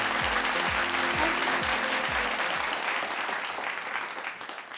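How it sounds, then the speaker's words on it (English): Applause from a large audience at a corporate anniversary event greets the Director of Customer Experience at DTDC as she comes on stage, a dense, steady roar of clapping that fades slightly toward the end. "Let's give a thunderous round of applause"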